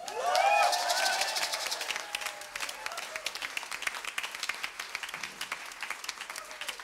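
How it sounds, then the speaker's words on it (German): A concert audience applauds the pianist of an Afro-Latin jazz and salsa ensemble in Vienna, a warm burst of crowd clapping and cheering that settles into a steady, gradually thinning patter. "ich hoffe, Sie grüßen jeden Einzelnen mit einem warmherzigen Applaus"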